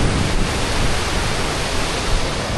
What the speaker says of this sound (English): there's another glimpse of another waterfall.